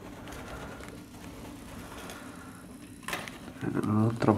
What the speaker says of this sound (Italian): C'è un piccione, poverino, freddo.